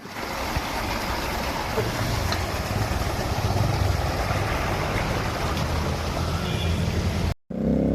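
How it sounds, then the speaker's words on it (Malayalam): Water from a burst pipe forces up through the soil beside a road with uncontrollable pressure, making a loud, steady, broadband rush for about seven seconds before it cuts off abruptly. "വെള്ളം നല്ല ഫോഴ്സിലാണ് വരുന്നത് കൺട്രോൾ ചെയ്യാൻ പറ്റാത്തതുപോലെ വെള്ളം വരുന്നുണ്ട്"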